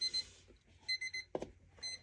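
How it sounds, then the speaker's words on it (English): An alarm clock goes off unexpectedly during a planner unboxing, sounding a few short bursts of bright, high beeping in clear repeated groups, with small handling noises in between. "I didn't think I had an alarm on."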